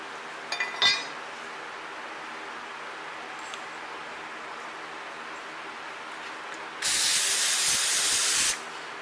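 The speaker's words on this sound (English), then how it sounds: "I'm going to clean them off with some good old brake parts cleaner" Brake parts cleaner is sprayed onto Ford Ranger brake parts, a single loud, steady aerosol hiss lasting under two seconds after a few light metallic clinks and a quiet pause.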